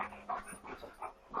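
A dog pants in quick, breathy bursts close by, the rhythmic huffs rising and falling in a steady pattern with no other sound around.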